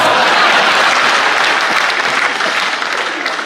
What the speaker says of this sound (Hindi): फिर आपकी तालियां उठनी चाहिए।